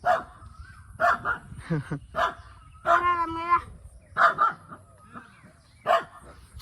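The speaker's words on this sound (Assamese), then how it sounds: "কুকুৰে ভুকি আছে নেকি" A dog barks in short, sharp bursts several times at close range, with a whimpering, whining yelp partway through.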